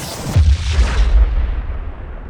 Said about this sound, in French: Puis à quelques dizaines de mètres, une explosion se produit.